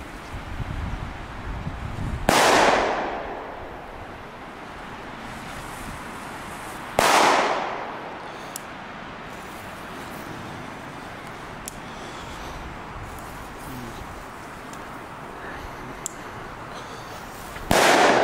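Belgian firecrackers go off one at a time, three sharp, loud bangs spaced several seconds apart, each followed by a short ringing tail over a quiet outdoor background with light wind.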